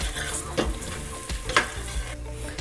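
Tomatoes cooking down in a chole gravy in a pan, a steady close sizzle with a few soft stirring scrapes and no voices.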